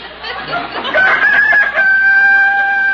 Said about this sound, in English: Oh, Rooster, you shut up.